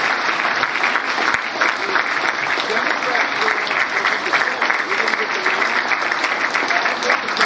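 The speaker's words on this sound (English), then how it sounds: "And now for that round of applause." A debate audience applauds after a candidate's closing statement, a full, continuous burst of clapping filling the room at steady loudness from start to finish.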